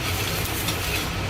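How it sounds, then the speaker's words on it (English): An egg fries in a hand-made Chinese wok, giving a steady, close sizzle with constant crackling hiss and no voices over it. "So we'll have a fried egg."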